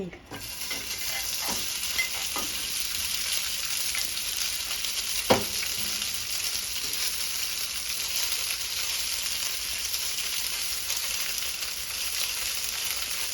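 Vegetable gyoza fry in oil in a pot, giving a continuous close sizzle that holds steady throughout, with a single brief clink partway through.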